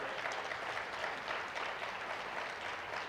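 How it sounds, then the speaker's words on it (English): Steady, dense applause fills a hall at an annual induction celebration evening as an audience claps for a high school student, a continuous even wash held at moderate distance, faint overall. "there's applause for Soleil"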